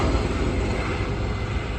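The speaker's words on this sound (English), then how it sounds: "That's a DHS helicopter, Department of Homeland Security." A Department of Homeland Security helicopter passes overhead in Washington, DC, its engine and rotor making a steady broadband rumble that sounds fairly close and holds level through the brief stretch.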